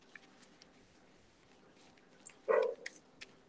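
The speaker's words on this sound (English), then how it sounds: "You can hear my dog. Bailey." Bailey the dog barks in a quick burst of a few sharp barks at close range, with faint scattered household noise before and after.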